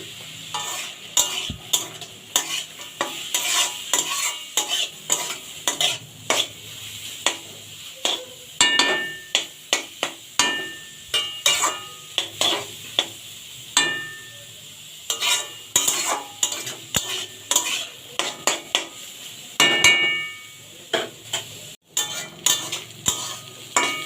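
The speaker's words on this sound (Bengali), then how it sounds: "ভালো করে ভেজে নেব" Garam masala, bay leaves and cloves fry in hot oil with a soft sizzle while a spoon repeatedly scrapes and clanks against the pan in irregular strokes.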